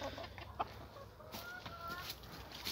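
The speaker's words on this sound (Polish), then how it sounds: "No, wszystkie są, właśnie wychodzi kogucik" Backyard hens give soft, scattered clucks in a run while a Silkie rooster steps out from under the coop, the calls faint and intermittent over a quiet outdoor background.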